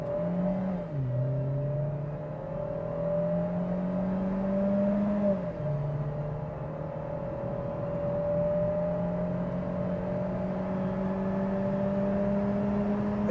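SsangYong Tivoli engine pulling steadily under acceleration on a test drive, a smooth rising drone with gear-change dips, loud and continuous with no talk.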